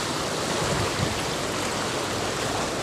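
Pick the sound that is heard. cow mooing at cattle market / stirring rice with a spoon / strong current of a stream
strong current of a stream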